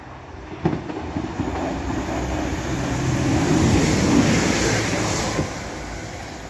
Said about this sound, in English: The next train to be coming through will be another Class 195 running from Manchester Victoria to Leeds.